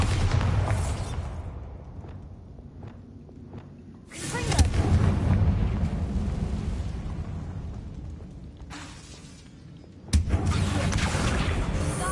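Bombarda blasting spells in the Hogwarts Legacy game, two heavy booming bursts that each land abruptly and then roll into long rumbling, crumbling debris, with a quieter stretch of settling noise between them.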